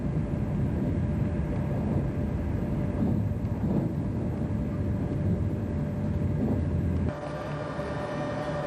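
Train pulling into Genoa station in Italy, a steady broadband rumble and rolling roar that holds for several seconds, then drops slightly in level near the end; no voices.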